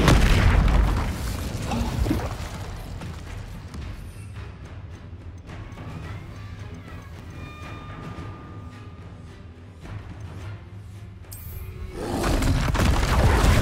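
Repeated Confringo explosive spell blasts from the Hogwarts Legacy video game, deep booming bursts with whooshes, loud at the start and end and a steadier rumbling roar through the middle, with no talk.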